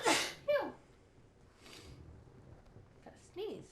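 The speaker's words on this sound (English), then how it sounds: "Gotta sneeze." A single sharp human sneeze bursts out at the start, followed by breathing and soft murmured talk at low volume.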